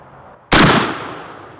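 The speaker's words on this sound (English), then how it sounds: "last shot of the day. Set trigger and fire." A single loud, close shot from a Thompson Center Hawken black powder muzzleloading rifle fired with a set trigger outdoors, a sharp blast at once followed by a long rumbling decay.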